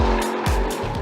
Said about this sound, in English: This is a titanium exhaust system with no middle silencer.